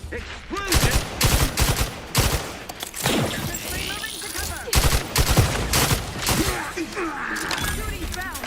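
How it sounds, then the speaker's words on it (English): Rapid automatic gunfire from the video game The Outer Worlds 2 rattles loudly in repeated bursts, mixed with game voices and impacts. "Shooting rounds to stop them."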